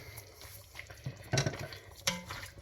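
A spoon scrapes and stirs in a pan, a few soft clattering strokes with quiet gaps between.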